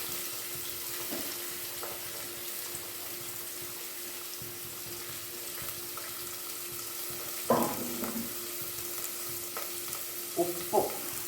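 Onion sizzles and fries in a pan for a Kerala-style jackfruit and pork curry, a steady close hiss broken by a few sharp scraping stirs near the end, with no one speaking.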